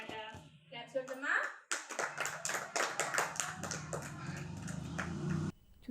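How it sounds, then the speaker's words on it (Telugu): Young children in a preschool activity session clap their hands in a run of close, fairly regular claps that stop abruptly. A voice speaks just before the clapping begins. "క్లాప్స్ కొడతామా?"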